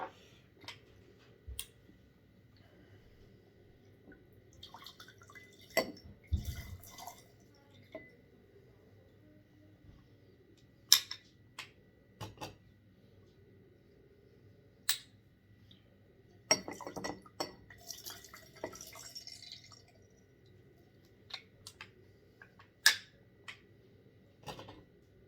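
Fresh lemon and lime halves are squeezed by hand in a quiet kitchen, giving soft squishes and drips mixed with scattered clinks of glass and light clicks, all close and intermittent.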